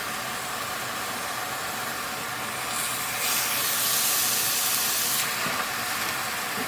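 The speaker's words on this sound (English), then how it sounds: "you're just going to take this and put it meat side down. Press it in. You want it on a nice high heat." A smash burger patty pressed meat side down into a pan on high heat gives off a steady, close hiss of sizzling that swells louder midway and then settles, with no talking.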